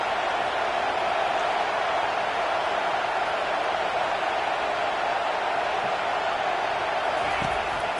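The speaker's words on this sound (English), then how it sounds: "Decibels rising as the crowd gets behind this defense on third down." A video-game college football stadium crowd, roaring on a third-down defensive stand, makes a steady dense wash of cheering noise that holds at constant loudness throughout.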